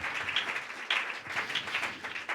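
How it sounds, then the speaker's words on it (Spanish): A church congregation claps in steady applause, a dense, moderately loud patter of many hands with small surges, filling the room without speech on top. "denle ese aplauso fuerte, fuerte a Jesús esta mañana"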